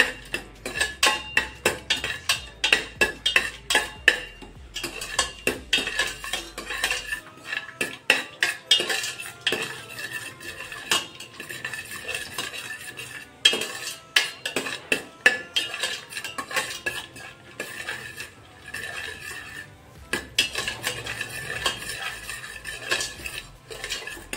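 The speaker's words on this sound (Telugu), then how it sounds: "ముందుగా మనం తీసుకున్న మసాలా దినుసులు వేసేసుకుందాము. ఇవి కొంచెం ఫ్రై అవ్వాలి, అంటే కొంచెం వేగాలి." Whole spices frying in ghee in a pan for mushroom biryani: a metal spoon clinks and scrapes against the pot in quick, irregular stirring strokes, loud and close, with a faint sizzle beneath and no talking.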